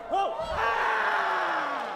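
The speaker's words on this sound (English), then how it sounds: "And most importantly, you hear the crowd reacting to everything." Crowd at the 2022 US Open ISKA martial arts Night of Champions roars and cheers, a few loud yells rising first before a sustained, dense wave of noise fills the rest of the moment.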